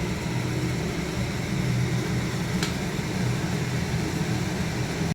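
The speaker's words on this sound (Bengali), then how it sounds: "এই যে বেগুন ভাজাটা করে নিচ্ছি" Begun bhaja, slices of eggplant frying in a pan, produces a steady, moderately loud sizzle with a low background rumble, with no voices and no letup across the few seconds.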